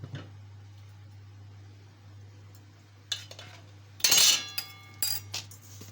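Pasta dropped into a pot of boiling water for Egyptian koshari: steady low bubbling hum, then sharp clinks and a loud rattling rush as the dry pasta goes in, followed by a few more clinks.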